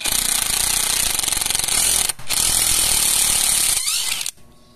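A power screwdriver drives out a Phillips screw it had just self-tapped without a pilot hole, giving a loud, steady broadband whir for about four seconds with one brief break before stopping.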